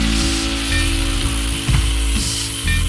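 A ratchet wrench tightens a nut while hanging shelves, giving rapid, close, crisp clicking in short bursts with brief pauses between strokes.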